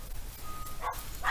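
A household dog gives two short, faint barks in quick succession, heard at a distance against a quiet indoor background.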